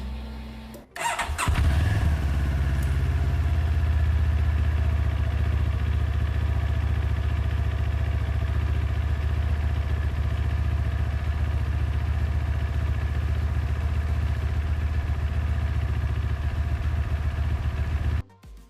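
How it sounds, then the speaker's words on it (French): A 2021 CFmoto 650 GT motorcycle engine cranks and catches after a second, then idles steadily and loudly with a low throbbing rumble until it cuts off at the end. "ma moto démarre au quart de tour"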